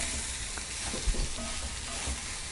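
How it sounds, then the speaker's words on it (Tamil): Onion and garlic fry in a hot pan for kara chutney, with a continuous soft sizzle broken by a few stirring knocks and scrapes, close and alone. "சிம்மில் மாற்றிட்டு நல்லா ஃப்ரை பண்ணிக்கோங்க. வெங்காயம் நல்லா வதங்கியாச்சு."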